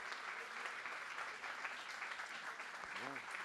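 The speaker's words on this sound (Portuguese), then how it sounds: "Por favor, palmas para o Mário Prata." A live audience claps steadily in welcome as author Mário Prata walks onto the Petrobras stage at a book fair, a dense, even wash of applause throughout, with a short voice-like tone rising briefly near the end.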